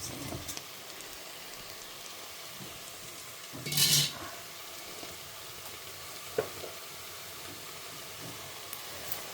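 Fresh seasonal green peas sauté in a pan, giving a soft, steady sizzle close by, with one brief louder scrape or clatter partway through and a small tap later.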